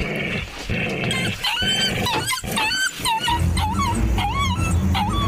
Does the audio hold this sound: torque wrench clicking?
no